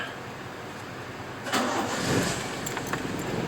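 A 1990 Toyota Corolla SE 1.6 engine cranks briefly and catches, starting after one crank and settling into a steady idle heard from close by.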